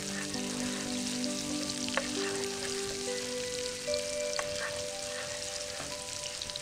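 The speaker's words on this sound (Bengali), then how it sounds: "2 টেবিল চামচ পরিমাণ আমি রসুন কুচি দিচ্ছি, রসুনটা একটু বাদামি হবে। দিয়ে দিচ্ছি সামান্য পরিমাণে পেঁয়াজ।" Chopped garlic and onion fry in a pan with a steady, even sizzle, a few small crackles and taps, and faint tonal notes underneath.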